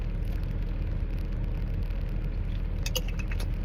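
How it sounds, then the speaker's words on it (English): Car air conditioning running on a 100-degree August night in Phoenix, a constant close whooshing blower hum filling the cabin, with a brief faint jingle near the end and no talking. "Forgive me if you hear noise. I've got the AC on."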